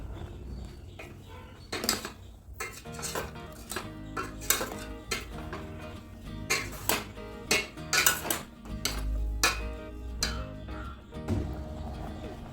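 A spoon stirs coconut paste into ripe mango pulissery in a metal pot, making irregular clinks, knocks and scrapes against the pot, moderately quiet and close, with no speech.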